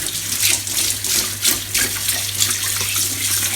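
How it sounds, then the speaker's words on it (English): Water running steadily from a tap into a sink during handwashing, a close continuous splashing hiss with slight fluctuations as hands move under the stream. "But before that, wash hands."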